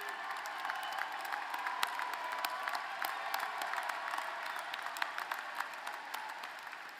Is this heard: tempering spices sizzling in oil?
no